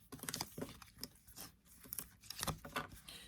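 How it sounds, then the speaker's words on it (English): An oversized tarot card deck is shuffled by hand, giving soft riffling, crinkly papery scrapes in quick irregular bursts, close and quiet. "These cards shuffle great."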